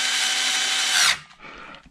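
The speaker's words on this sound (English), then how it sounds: "take your time with the screws, because you don't want to cross thread them, particularly if you're using a power tool like this" A power drill drives screws into a metal bed frame during assembly, whirring loudly and steadily up close for about a second before stopping abruptly, leaving faint handling noise.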